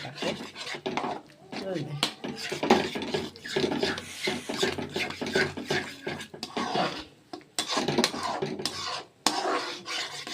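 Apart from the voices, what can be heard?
frying and stirring masala for rohu fish kalia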